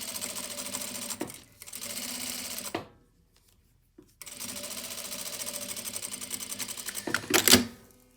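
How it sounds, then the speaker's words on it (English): A sewing machine top stitches the seam of a jacket sleeve in several close, steady runs, pausing briefly between bursts, with a louder clatter near the end. "we're going to top stitch that in a bit"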